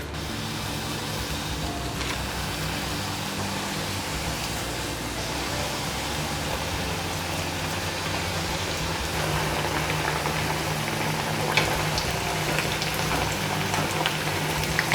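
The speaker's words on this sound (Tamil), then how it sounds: "ஸோ கேர்ஃபுல்லாக ஒவ்வொரு தட்டை நம்ம எண்ணெயில் சேர்த்துடலாம்" Thattai, rice flour crackers, deep-fry in hot oil with a steady, dense bubbling hiss like rain that holds at an even level throughout.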